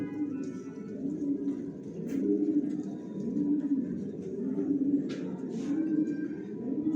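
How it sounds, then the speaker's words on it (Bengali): Pigeons in a loft with new cages, cooing steadily in soft repeating low rolling calls, several birds overlapping at moderate volume, with faint clicks and rustles in the background. "এখন আস্তে আস্তে কবুতর জোড়া দিব।"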